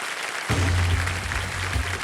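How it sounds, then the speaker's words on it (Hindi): Studio audience applause for contestants on a television quiz show, a full burst of clapping starting abruptly after a brief quiet moment, with a low musical hum running beneath. "तालियां बजती रहें इनके लिए देने सब"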